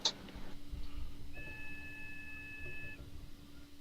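A steady electronic beep over a caller's microphone line sounds for about two seconds as a thin, even tone above a low, constant hum.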